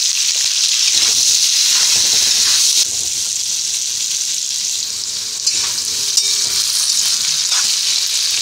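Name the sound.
potatoes frying in a pan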